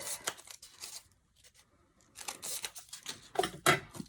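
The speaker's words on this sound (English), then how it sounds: "I just want to cut a few more strips of this." Scissors snip through strips of craft paper for a handmade Flanders poppy, a run of crisp cuts, a quiet pause, then another quick burst of close, dry snipping and rustling.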